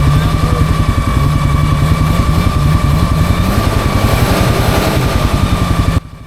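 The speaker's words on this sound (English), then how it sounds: "I was able to pull out a Suzuki Samurai with my little ATV" A small ATV with 32-inch Aztex tires and an XMR700 gear reducer pulls a Suzuki Samurai out on a trail ride, its engine droning loud and steady at close range for six seconds, then cutting off abruptly.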